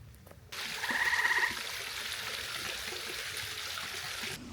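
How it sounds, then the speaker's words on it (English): Frogs croak in a garden at evening: a short, faint pulsing trill rises briefly near the start over a steady wash of background noise. "It's frog hour."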